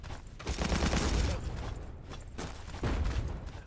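Bursts of gunfire from the World War II shooter Battlefield 1942 in a Berlin battle, loud volleys around half a second and again near three seconds over a continuous rumbling battle din.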